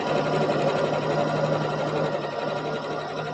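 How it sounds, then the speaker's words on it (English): A sewing machine runs steadily, stitching a chenille leaf trivet with a constant close hum and fast mechanical rattle throughout, no pauses. "as you're sewing, you always want to make sure that you remove your straight pins"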